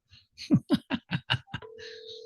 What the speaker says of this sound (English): Do you guys mind if I make a phone call?